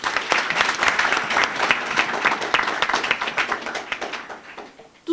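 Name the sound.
audience applauding the moderators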